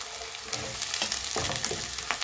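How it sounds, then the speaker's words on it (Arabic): Onions fry in a pan for pasta Bolognese, a steady close sizzle with a few light stirring scrapes, no voices. "نقلي البصل شوية"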